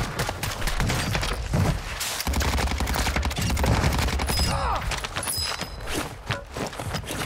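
KV Broadside shotgun fire in Warzone 2.0, loud rapid blasts in close succession amid other gunfire, footsteps and game action throughout, with no talking.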